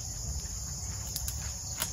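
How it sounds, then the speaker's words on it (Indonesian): Crickets chirping in an oil palm plantation, a dense steady high trill with a few sharper pulses standing out over quiet outdoor background. "Jangkrik."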